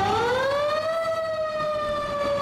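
A police car siren from the Emergency 4 video game wails in one steady, loud rising tone that holds for a couple of seconds, alone with no talk.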